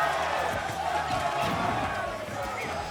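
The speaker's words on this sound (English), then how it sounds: "Crowd is extremely loud behind us right now" At a Super Smash Bros. Wii U tournament, a loud crowd roars and shouts steadily in the background while commentators talk over it up front.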